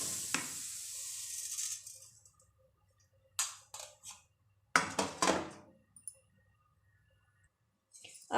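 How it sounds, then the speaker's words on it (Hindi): Sesame seeds poured into a hot kadhai for dry roasting make a quick rushing hiss that fades out, followed by separate bursts of rattling, crackling clicks with silent gaps between them. "अब इसके अंदर हम सारे तिल डाल देंगे"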